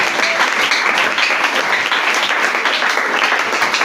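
A church congregation applauds and cheers at a French-language sermon, the clapping dense and steady throughout, loud and close, with no break.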